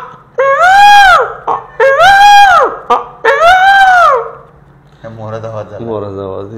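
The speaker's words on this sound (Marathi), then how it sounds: "मोराचा आवाज झाला." A peacock gives three loud, drawn-out wailing calls in quick succession, close by, followed by a softer, lower harmonic cry at the end.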